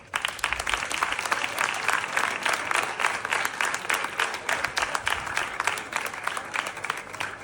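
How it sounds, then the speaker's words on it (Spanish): An outdoor crowd at the Riofrío town festival opening speech breaks into lively, dense clapping that holds steady for several seconds, close and rhythmic. "Me vais a permitir que les demos un aplauso"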